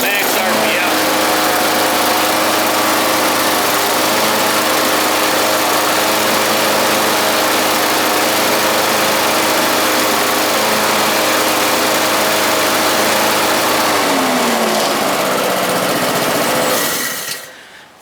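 A new Honda GC lawn mower engine, fitted as a replacement for a Briggs & Stratton 450e, runs steadily at low idle around 1700 RPM with a loud, even drone that holds for most of the stretch before cutting off near the end.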